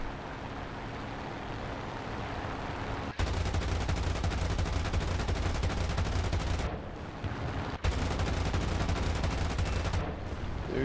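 An Avia S-199 prop fighter's machine guns fire in War Thunder, two long, loud, continuous bursts of rapid rattling fire over steady engine drone, separated by a short pause.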